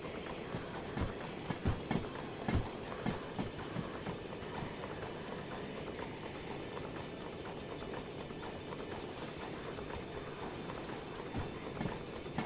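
A locomotive in the railway game Derail Valley rolls along the track with a continuous low rumble and irregular clacking and knocking from the wheels on the rails, at a moderate level with no voices.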